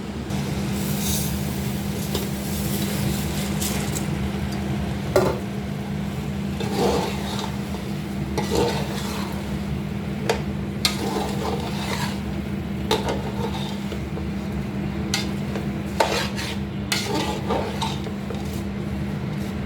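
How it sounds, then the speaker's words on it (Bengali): Washed basmati rice frying in a pot while being stirred gives a steady broadband sizzle over a constant low hum, with occasional sharp utensil clinks and scrapes. No one speaks. "চালটা একটু ভাজা হয়ে গেছে"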